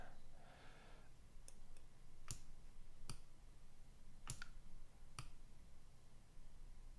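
Computer mouse clicks while a date is being selected, heard as a handful of sharp, isolated clicks spaced about a second apart over quiet room noise.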